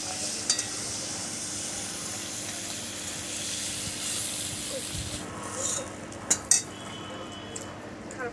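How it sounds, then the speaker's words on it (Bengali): Shrimp frying in oil in a village kitchen, a soft steady sizzle with a few utensil clinks and stirring scrapes near the end, faint voice in the background. "আর চিংড়ি মাছটা কিন্তু খুব বেশি ভাজবো না, খুব বেশি ভাজলে শক্ত হয়ে যায়।"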